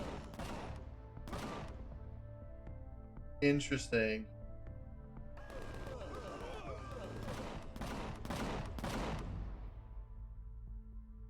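Minigun turrets firing in the space survival game Empyrion Galactic Survival, with repeated sharp bursts of rapid gunfire spaced through the clip and a brief spoken word in the middle.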